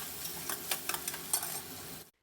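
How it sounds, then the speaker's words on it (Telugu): Thinly sliced onions tossed into heated oil and stirred, giving a soft crackling sizzle with a few scraping stirs, close and fairly quiet, ending abruptly. "ఇప్పుడు ఆయిల్ హీట్ అయిన వెంటనే ఈ ఆనియన్స్ని ఈ విధంగా వేసేసుకుని ఒక్కసారి ఈ విధంగా కలుపుకొని"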